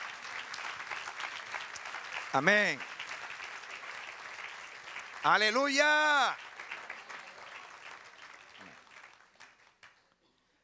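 A church congregation applauds steadily through the stretch, with a preacher's voice swelling over the clapping in two loud shouted bursts before the applause tapers off toward the end.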